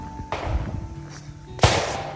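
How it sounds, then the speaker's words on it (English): A huge cannon fires about 100 yards away at an outdoor shooting event, one sharp, loud blast with a broadband crack and low rumble, preceded by a smaller bang from the same range. "They just shot like some friggin' huge cannon like 100 yards away."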